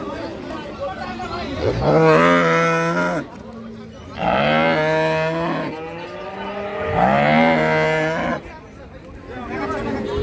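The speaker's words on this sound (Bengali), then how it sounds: "এই যে জার্সি ব্রিড, জার্সির মান ভালো আছে। ছোট গাভী, তলা ভালো।" Jersey cow at a rural cattle market giving three loud, drawn-out moos that rise and fall, each lasting about a second or two and spaced a couple of seconds apart, with market noise and faint voices between them.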